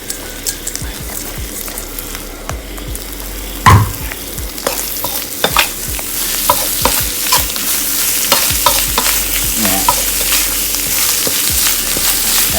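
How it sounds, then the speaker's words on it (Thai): Chili paste stir-fried in a pan for a spicy field rat and pickled bamboo shoot dish, with steady close sizzling broken by scraping spatula strokes and a few louder clanks. No one speaks. "ผัดพริกให้หอมให้ตีขึ้นจมูกนะครับผม"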